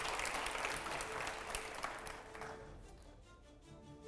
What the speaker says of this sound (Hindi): आइए, जोरदार तालियां हो पहले अगले सवाल से पहले।